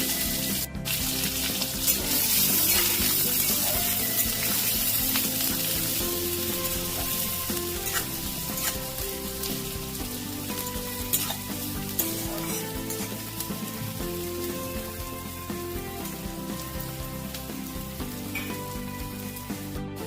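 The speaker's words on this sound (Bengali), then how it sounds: "ওই তেলের মধ্যে কেটে রাখা পেঁয়াজটা দিয়ে দিলাম" Chopped onion frying in hot oil already tempered with cumin seeds and a bay leaf, for an egg curry: a steady, dense sizzle with occasional stirring scrapes runs loud and close for the whole stretch, with no talk.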